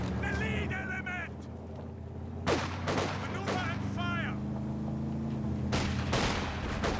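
Machine-gun fire and battle noise from the video game Company of Heroes 2, with sharp shots over a steady engine-like rumble, under a commentator's continuous talk.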